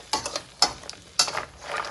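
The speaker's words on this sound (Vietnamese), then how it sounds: "bây giờ chúng ta sẽ đảo đều lên cho nó thấm gia vị với thấm bơ tỏi vô đây" Crab tossed with garlic butter in a big pan, with several scraping, clattering stir strokes at a steady rhythm over a faint sizzle, close and fairly loud, with no voices.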